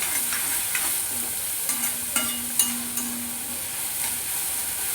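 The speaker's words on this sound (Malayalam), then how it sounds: "സവാള വഴറ്റുക." Onions sautéing in a pan for a potato roast, cooking toward golden: a steady close sizzle with intermittent light scrapes and taps from stirring, and no talking.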